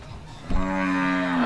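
A calf moos once, loud and close: a long, steady, harmonic call that begins halfway through and holds to the end, with no talking over it.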